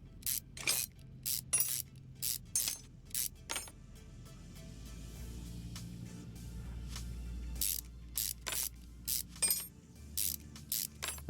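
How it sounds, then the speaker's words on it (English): Car screws come out in Car Mechanic Simulator 2021 as quick bursts of ratcheting clicks, one cluster at the start and another near the end, with a quieter low hum between them. "Okay, screws out at both ends."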